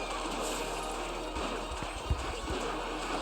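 Hog Rider from Clash Royale charging into play, with hoofbeat clip-clops over steady game music and a brief louder thump partway through.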